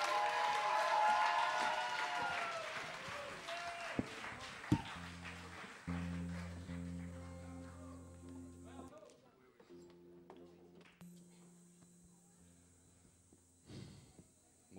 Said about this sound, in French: Un grand applaudissement pour Azerty